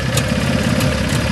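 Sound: motorcycle engine roaring

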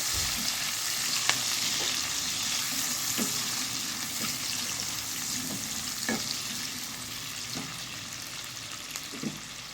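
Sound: onions frying in pan

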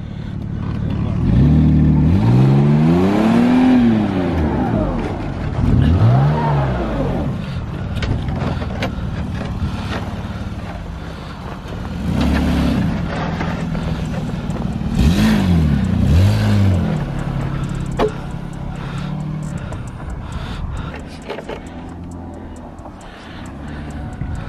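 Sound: Mazda car driving away

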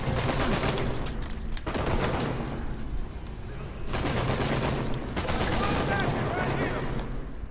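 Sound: AK-47 gunfire in video game Uncharted 4

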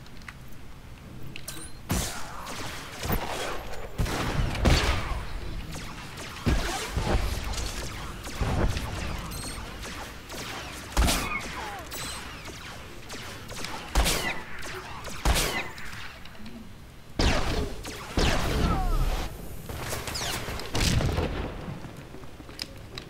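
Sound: blaster fire in video game Star Wars: The Old Republic

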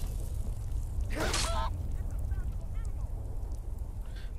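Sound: chicken in Skyrim video game

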